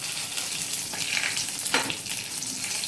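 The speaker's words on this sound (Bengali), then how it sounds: "এবার গোটা গরম মশলাগুলো সব তেলের মধ্যে ঢেলে দিচ্ছি" Whole garam masala spices hitting hot cooking oil for a potato egg curry, a steady crackling sizzle with a few sharper pops and spatters, close and moderately loud, no talking.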